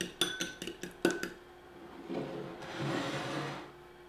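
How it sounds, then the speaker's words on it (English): Yellow mustard whisked into a mixture in a bowl for baked tuna patties: a burst of quick metallic clinks of the whisk against the bowl, then a softer sustained swishing, close up. "we'll just keep whisking that together"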